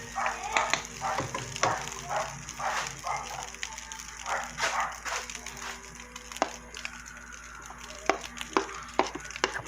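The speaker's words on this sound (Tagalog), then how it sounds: "Ganyan yung ginagawa ko kapag nagluluto ako ng fried rice." Fried rice with leftover menudo sizzles in a pan as two spatulas stir it, giving a steady frying hiss broken by repeated scraping strokes at a brisk, uneven rhythm, close and moderately loud.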